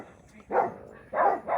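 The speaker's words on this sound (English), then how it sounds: "you hear my dog? He's barking at somebody walking by." A dog barks at someone walking past outside, three short moderately loud barks in an uneven rhythm with quiet pauses between them, heard alone with no talking.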